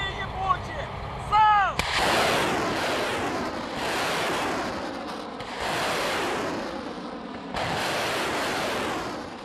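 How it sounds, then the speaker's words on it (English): Long-range military rockets are launched by artillery in the Ukraine war. Several loud, roaring, hissing blasts follow one another, each lasting a couple of seconds, after a brief voice and some chirping at the start. "the command comes in to fire. These are some of the longest range rockets their army has."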